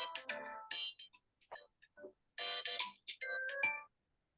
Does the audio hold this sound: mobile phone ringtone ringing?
yes